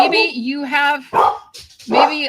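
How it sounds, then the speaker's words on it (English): A dog barks loudly and close in several sharp bursts, with whimpering yips between the barks, during a homeschool podcast recording. "my dog's going to of course bark through this"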